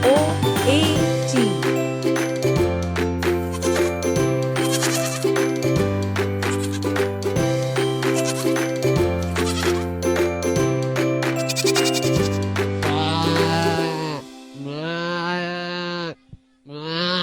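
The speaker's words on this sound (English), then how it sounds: "Goat." A goat bleats in a few wavering cries near the end, following a stretch of bright, jingly children's music.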